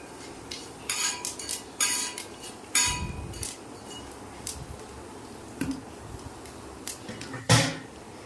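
A spoon scrapes and knocks against a pan while spice masala is stirred, giving irregular clinks and scraping strokes with a couple of louder taps, over a low steady background hiss and no talking.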